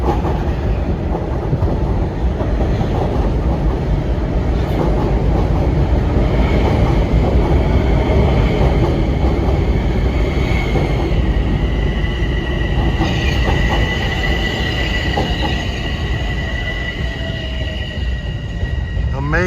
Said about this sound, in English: Train on the left is 564 from North White Plains, and the train on the right is 770 from Croton Harmon.